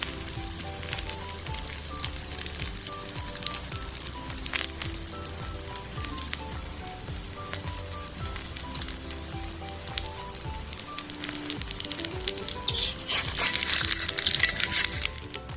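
Bread slices fry in ghee in a pan with a steady, dense sizzle and crackle, loud and close throughout with no talking.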